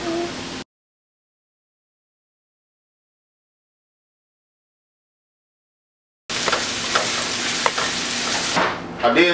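Meat sizzles in a pan with stirring scrapes and clatter after a long stretch of dead silence, the frying hiss close and steady for the last few seconds.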